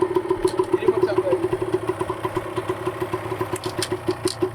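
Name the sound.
motorcycle engine running in first gear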